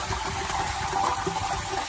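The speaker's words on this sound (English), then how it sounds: "it's water going down in the oil pan" Water draining into the very hot oil pan of a 1979 Ford engine, a steady hissing, gushing wash with faint bubbling, close and unbroken.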